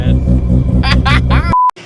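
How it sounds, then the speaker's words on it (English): Heavy exhaust rumble from a 900 HP 1993 Mazda RX7 FD, heard from inside the car as a steady low drone under people talking, ending with a short electronic beep. "inside of the car, all you hear is the exhaust in the car and just the raw power of the RX7"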